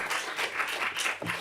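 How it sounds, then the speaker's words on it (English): Audience applause at an international conference on entrepreneurship and economic management, a brief, steady spell of many hands clapping, heard somewhat distant and moderately loud. "Let's give a big applause once more again"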